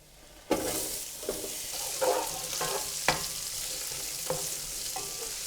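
Onions frying in a pan with a teaspoon of cumin and four torn Kashmiri chilies for chicken curry, a steady close sizzle broken by several sharp scrapes and clatters of stirring.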